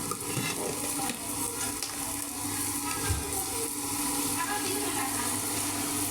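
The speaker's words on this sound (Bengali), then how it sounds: "সব মশলা আমি কষায় নিচ্ছি ভালো করে" Spices being stir-fried for chicken bhuna, with turmeric, chili powder, salt and ginger paste in the pan: a steady, continuous sizzle with stirring and scraping throughout, fairly close and even in level.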